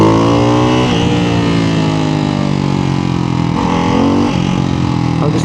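A Ducati Hypermotard 698 RVE single-cylinder supermoto engine accelerates hard, a loud, close, continuous roar with rising revs, a brief dip for a gear change, then climbing again.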